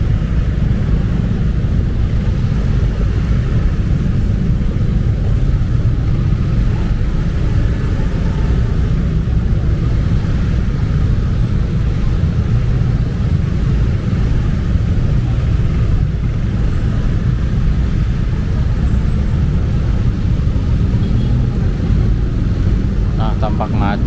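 Jammed city traffic in Bandung near Pascal Hyper Square at year's end, a constant low rumble of car and motorcycle engines that carries on without a break while someone narrates over it.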